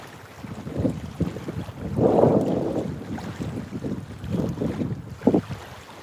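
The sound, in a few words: cold wind blowing around a fishing boat on river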